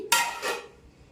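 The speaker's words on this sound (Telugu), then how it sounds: "1 నిమిషం పాటు అయితే మూత పెట్టేసుకొని" A metal lid set down on a pot of drumstick sambar, giving a bright clatter followed by a second softer clink, close and alone with no talk.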